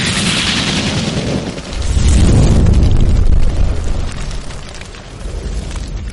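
A fireball jutsu explosion effect from an anime fan dub fight: a loud, sustained roaring blast that swells into a deep rumbling boom, then trails off into crackling noise with no speech over it.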